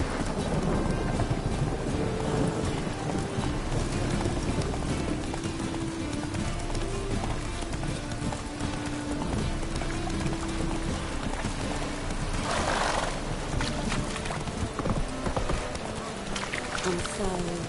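A horse gallops in The Witcher 3 video game with steady clip-clop hoofbeats throughout, under in-game sound and someone talking.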